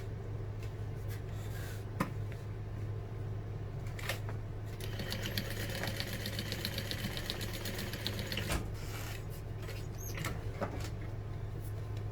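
A sewing machine stitches a basting seam through the exterior panel of a vintage-style barrel bag. It runs in steady, close bursts of rapid needle clatter over a constant low motor hum, with brief pauses between runs.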